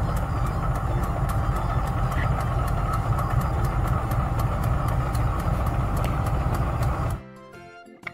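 A train rumbles steadily with a dense engine roar and rhythmic clicking for about seven seconds, then cuts off abruptly to near quiet.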